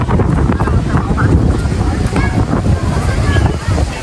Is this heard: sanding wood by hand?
no